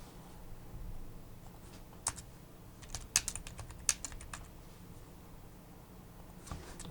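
Code is typed on a computer keyboard in quick uneven bursts of light clicks, close and fairly quiet, with a few louder key strikes in the middle and no talking.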